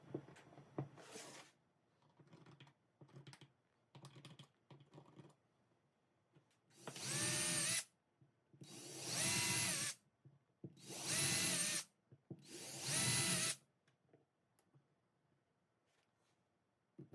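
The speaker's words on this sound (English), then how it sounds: "Now I'm going to screw some toggle clamps to the blocks to make them a little more useful." Power drill driving screws through toggle clamps into wood blocks: several short whirring bursts followed by four longer, louder drilling runs with rising pitch, separated by quiet gaps, close and without talk.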